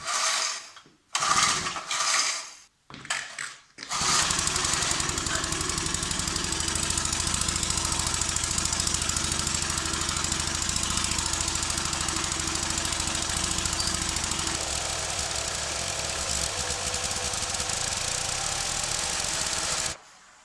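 An old log splitter's small engine with an old carburetor is cranked over: a few ratcheting pulls, then a long, steady mechanical churning and rattling without catching into a clean run.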